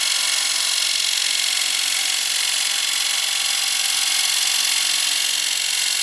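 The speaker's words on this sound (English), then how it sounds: "Watch the amount of pressure with the bevel, so you hear me reset the tool there." Bowl gouge shearing very dry, brittle wood on a lathe, a continuous loud hissing scrape with even texture throughout, close and steady without pauses or talk.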